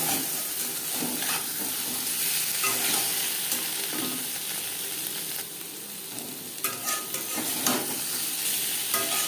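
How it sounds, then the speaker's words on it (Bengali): Paneer pieces fry lightly in a pan, with a dense, steady sizzle and occasional stirring scrapes running throughout at close range. "পনির হালকা করে ভাজা হয়ে গেছে।"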